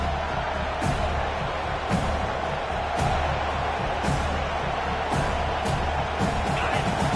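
Football stadium crowd at a Miami Hurricanes game in a steady, loud roar of cheering, with scattered whoops and claps rising over a broad wash of noise, all close and continuous.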